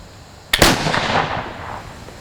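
A flintlock rifle loaded with 30 grains of 2F black powder fires once outdoors: a sharp, loud crack with a short hissing flash just before it, then a long rumbling echo that fades over about two seconds.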